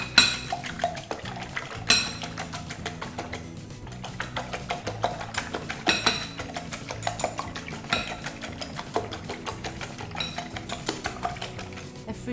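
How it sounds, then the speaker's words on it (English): Eggs whisked with salt and dairy cream in a bowl for a Swiss chard frittata, a steady run of quick metallic clinks and taps against the bowl over about twelve seconds, with no voices. "we whisk it all together"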